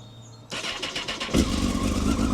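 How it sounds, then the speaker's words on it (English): Starter motor cranks in quick pulses, then a Honda CBR954RR Fireblade sport motorcycle engine fires and rumbles into a loud, close idle. "we'll have again another start on the Fireblade on the 954"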